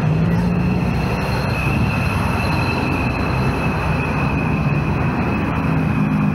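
A KY908 mini drone's motors whir into a loud, steady high-pitched whine over constant rushing noise as it takes off, continuous throughout with no speech.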